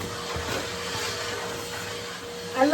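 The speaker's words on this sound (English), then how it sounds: "Vacuum." A vacuum cleaner runs steadily on a floor at home, a constant mid-level whirring drone that swells briefly near the end.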